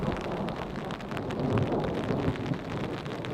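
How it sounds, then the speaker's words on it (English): Thunder rumbles low and continuous during rain in a forest campsite, a broad distant roll over the steady hiss of falling rain, with no voices. "It's been thundering for hours, but yet nothing's hit us directly."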